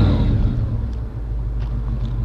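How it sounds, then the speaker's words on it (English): A 1960 Oldsmobile Dynamic 88 convertible with its original 371 V8 rumbles nearby, a deep throaty revving burst at the start settling into a steady low idle burble. "Go ahead and rev it up a little bit."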